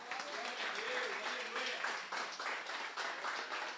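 A congregation applauding in church, a fairly soft, uneven patter of clapping mixed with voices and exclamations from the people gathered.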